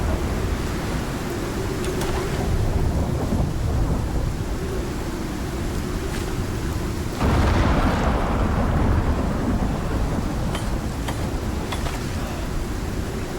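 Heavy storm in the Icarus survival game: steady rain roaring with deep rolling thunder, a loud crack and surge of rumble midway, then continued downpour with scattered distant rumbles, no voices.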